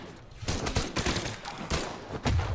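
Guns fire in quick, punchy bursts during a Brawlhalla 1v1 fight, several rapid shots close and loud over the game's constant action.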